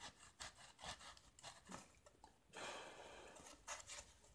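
Sandpaper rubs across the wooden neck of a baroque violin in a series of close, quiet back-and-forth strokes, each a soft raspy swish with short pauses between.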